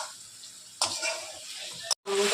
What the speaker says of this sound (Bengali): এখন আলু আর পটলটা দিয়ে দিচ্ছি, দিয়ে এখন সুন্দর করে কষিয়ে নেব।